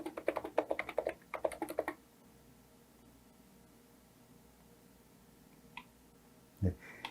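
Quick bursts of typing on a computer keyboard while entering data into an online form, dense clattering keystrokes for about two seconds, then near silence with a couple of isolated clicks.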